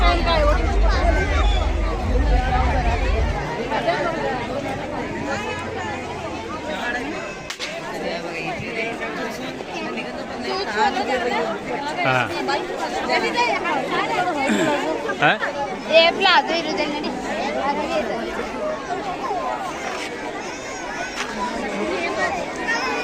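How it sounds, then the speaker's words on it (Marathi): Dense chatter from a crowded village fair fills the air, with many overlapping voices and general hubbub all around, plus scattered knocks and thumps. "गर्दी फुल आहे"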